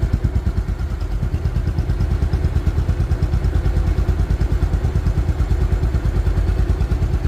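A 2019 Bajaj Pulsar double disc motorcycle idles close up, its engine thumping in a fast, even pulse with a clattery edge, steady and alone throughout.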